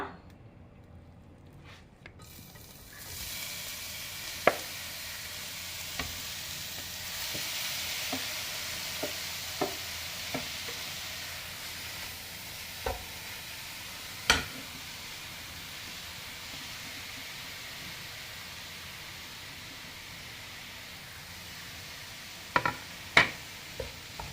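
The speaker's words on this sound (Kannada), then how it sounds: "ಈಗ ತುಪ್ಪಕ್ಕೆ ಈಗ ನಾನು ಕ್ಯಾರೆಟನ್ನು ಹಾಕ್ತೇನೆ. ಅದನ್ನು ಸ್ವಲ್ಪ ಫ್ರೈ ಮಾಡುವ." Steady sizzling of carrots frying in ghee with a few sharp clinks and scrapes of stirring scattered throughout, close and fairly loud, no voices.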